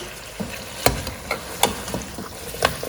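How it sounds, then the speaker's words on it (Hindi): Beef paya masala stirred and fried in a pot, giving a continuous sizzling hiss broken by irregular scraping clinks of the spoon against the pan, close and fairly loud. "क्या ज़बरदस्त बुनाइयाँ हो रही हैं।"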